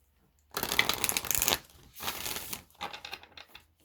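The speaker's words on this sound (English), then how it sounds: "Let's pull a final card of advice for Virgo, please." Tarot cards riffle and slap as a deck is shuffled and a card drawn, three close, crisp bursts of papery flutter with short pauses between, no talk.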